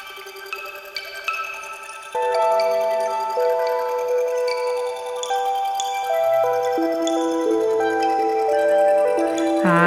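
A Eurorack modular synthesizer plays an ambient soundscape with a melody, with bright ringing tonal notes over sustained pad-like layers that swell fuller after the first couple of seconds, loud and continuous without speech.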